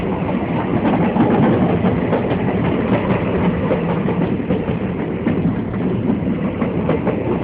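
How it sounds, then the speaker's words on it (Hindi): A passenger train on the Chunar–Barwadih–Gomo line runs between Shakteshgarh and Siddhnath dari, a loud, steady, continuous rumble with wheel clatter heard from on board. "और हमारी ट्रेन अब सिद्धनाथ की दरी की तरफ अगला रुख की हुई है।"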